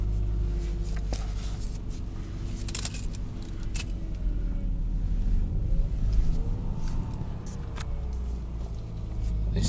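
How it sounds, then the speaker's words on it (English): The engine of a 2008 Subaru Liberty runs at a fast idle, a steady low rumble that rises gently partway through, with small clicks and jingling over it nearby. "Even when it's hot, it seems to go into fast idle and then have a think what it's doing for an unusual amount of time."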